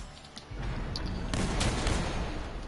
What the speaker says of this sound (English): Those shotguns are working.